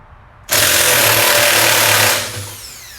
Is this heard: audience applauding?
no